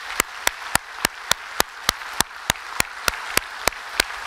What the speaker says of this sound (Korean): 우리 큰 박수 한번 쳐보도록 하겠습니다.